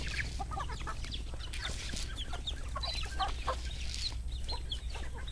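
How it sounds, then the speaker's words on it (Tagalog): Agitated chickens kept at home raise a commotion of overlapping clucks and squawks, busy and close, over a constant low hum with no talking. "At nagwawala na itong mga manok na ito."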